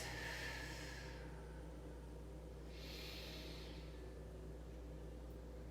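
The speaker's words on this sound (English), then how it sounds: "take a couple deep breaths" Two slow, deep breaths are taken while holding a yoga pose, each a soft, close airy rush with a quiet pause between them. No one speaks.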